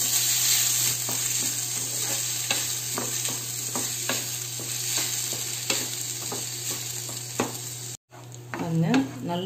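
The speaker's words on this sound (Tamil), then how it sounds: "1 டீஸ்பூன் நான் ghee சேர்த்துக்கறேன். அதுல 1/2 கப் அளவு அரிசி சேர்த்துக்கலாம். இத நம்ம dry roast பண்ணிக்கலாம்." Rice dry roasting in ghee in a pan, a steady close sizzle with repeated scraping stirs, then a brief break before louder clattering stirs resume.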